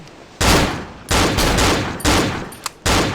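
A few loud, close in-game gunshots from the horror game Cry of Fear, aimed as headshots at an enemy in subway tunnels: roughly four sharp blasts spaced about a second apart, each with a brief decaying tail.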